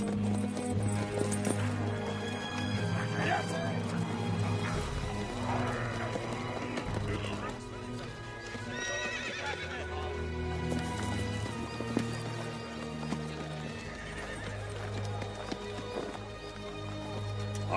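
Horse hooves clip-clopping at a steady running pace in a medieval fantasy action film, mixed under a dense orchestral score and battle ambience for most of the passage, with occasional whinnies.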